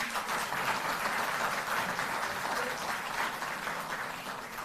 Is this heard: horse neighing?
no